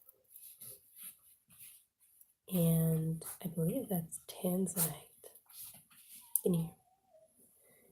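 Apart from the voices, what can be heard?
dog whimpering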